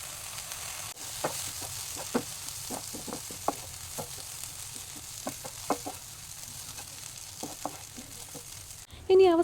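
Cheesy bread masala is stirred in a pan with a spoon, giving a faint steady sizzle under repeated scraping clicks, followed by a brief louder clatter at the end.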